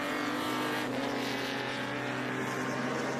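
A 1961 Ferrari competition Berlinetta races at Laguna Seca during qualifying, its engine a steady, loud, continuous roar with no pauses and no voices.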